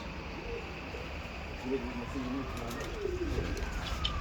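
Seferli pigeons coo softly in repeated low throaty phrases under a constant background hum, with faint chirps scattered through.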